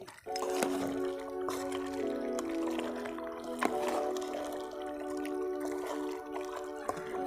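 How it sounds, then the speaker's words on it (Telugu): Water being poured into a pot of country chicken curry, a continuous gurgling trickle with small splashes and drips, fairly close and steady for several seconds. "చూడండి ఇప్పుడు తగినన్ని నీళ్లు పోసుకుందాం"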